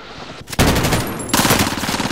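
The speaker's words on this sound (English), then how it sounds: "Taking fire! They're targeting me." Heavy incoming automatic gunfire in a video game, a loud dense burst that breaks off briefly near the middle and then resumes just as hard, close and alone with no talk.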